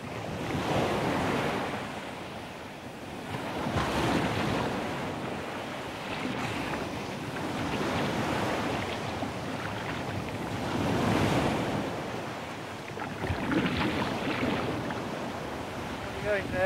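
Rough, cold, grey sea with waves surging and wind gusting, a loud broad roar rising and falling every few seconds, with faint boat noise beneath.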